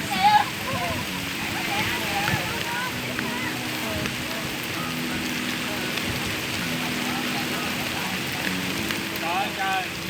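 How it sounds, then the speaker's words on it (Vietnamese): Heavy rain pours steadily outdoors during a picnic with chicken grilling, a dense continuous hiss of drops on surfaces with occasional chirps and murmurs over it. "Mưa lớn kìa."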